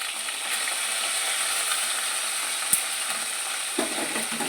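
Food fries with a steady, loud sizzle in a pan while a pinch of turmeric is stirred in, with a single sharp clink of the utensil and scraping stirring sounds near the end.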